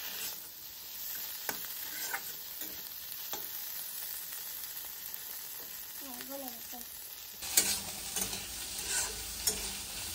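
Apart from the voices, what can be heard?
frying bitter gourd (ucche) being stirred in pan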